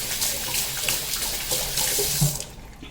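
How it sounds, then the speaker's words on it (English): Hands are washed under a running tap after repotting a rose plant; water splashes steadily and close for a few seconds, then fades as the flow stops. "and then I will just wash my hands"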